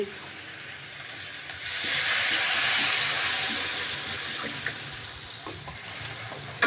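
Fish curry gravy for a jhilik fish chorchori comes to a boil in a pan, a steady bubbling hiss that swells after a couple of seconds and then holds, with faint clinks underneath.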